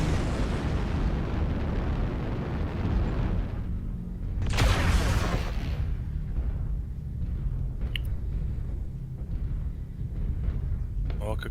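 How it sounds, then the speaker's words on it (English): Artillery strike explosions in the video game Mechwarrior Online, a heavy rumbling barrage that peaks in one loud bright blast midway, then fades into a quieter rumble with a few sharp pops. "Artillery strike."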